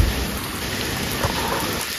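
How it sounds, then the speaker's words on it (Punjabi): Heavy monsoon rain falls steadily in Punjab, a loud unbroken wash of water with a low rumble of thunder underneath and no talk. "ਅਤੇ ਮੀਂਹ ਕੰਟੀਨਿਊ ਚੱਲ ਰਿਹਾ"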